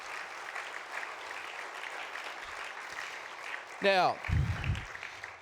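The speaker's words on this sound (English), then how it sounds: "Can we have a round of applause, please, as well?" Audience applause at the Screen Forever 40 official opening ceremony on the Gold Coast, steady broadband clapping from a crowd sustained throughout, with a voice briefly speaking near the end.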